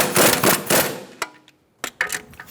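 Impact gun tightening an axle nut during steering knuckle replacement on a 2014-2019 Kia Soul, with two rapid rattling bursts followed by shorter clicks and brief hammering pulses, close and fairly quiet.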